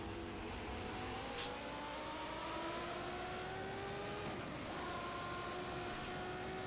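Formula One cars at the 1991 Spanish Grand Prix race past in a loud, continuous engine roar, several high-revving engines overlapping with rising and falling pitch as they accelerate and shift.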